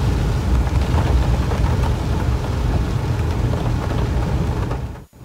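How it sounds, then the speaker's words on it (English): Heavy rain pouring outdoors on a muddy estate, a loud, steady roar of falling water with dense patter that continues without a break and cuts off abruptly at the end. "It's raining."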